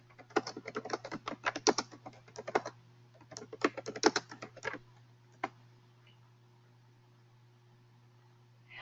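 Someone types on a computer keyboard during a conference call, with quick bursts of close clicking keystrokes, a short pause, another flurry and one last key press, then quiet hum.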